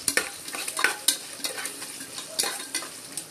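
Green chillies sautéing in hot oil with fennel, cinnamon, cloves, star anise, curry leaves and coriander for tomato rice: a steady close sizzle broken by repeated sharp scrapes and clacks of a spoon stirring the pan, with no talk.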